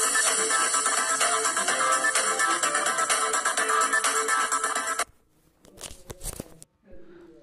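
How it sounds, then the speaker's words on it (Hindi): Background music track added in the KineMaster video editor on a phone, playing loud and steady for about five seconds before cutting off, followed by a few faint handling noises. "तो दोस्तों आप सुन सकते हैं यहाँ पर बैकग्राउंड म्यूज़िक कैसा लगा है।"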